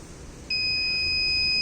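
A steady electronic buzzer tone from a collision-detection proximity sensor switches on abruptly and holds continuously, a high pure whine over faint background hum.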